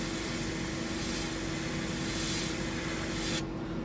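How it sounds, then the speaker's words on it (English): Airbrush spraying paint onto a mantis prawn fly pattern, a steady close hiss of air and paint that cuts off abruptly near the end, with no talk. "If I can get this airbrush going."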